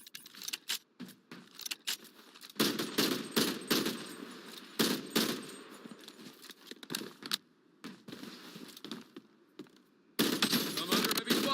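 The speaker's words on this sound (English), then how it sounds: "I'm under heavy fire." Heavy video game gunfire in rapid bursts, loud clattering volleys stopping and starting throughout, with little else besides.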